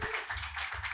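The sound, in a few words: audience applause for Stab Comedy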